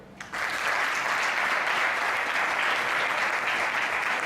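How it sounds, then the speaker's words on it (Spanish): An audience at a book presentation in Casa Colón, Huelva, breaks into warm applause for the incoming speaker, a sudden swell that becomes a thick, sustained roar of clapping. "Invitándole a recibirle con un caluroso aplauso"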